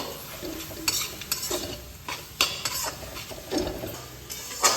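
Red spinach fried with roasted poppy seeds, nuts and a little sugar being stirred in a pan, with a spoon scraping and clinking against the metal in repeated strokes over a soft sizzle.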